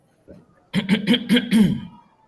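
Several short, harsh bursts in a quick run, close and fairly loud, like a person coughing repeatedly, with a faint vocal sound just before.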